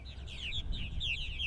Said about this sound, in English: And the birds are gathering back here at the houses for another evening.